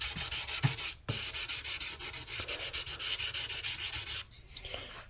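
Beeswax and orange oil mixture rubbed by hand onto the fingerboard of an Orangewood acoustic guitar under neck repair, a close, steady series of quick rhythmic rubbing strokes with a brief pause near the middle and another near the end.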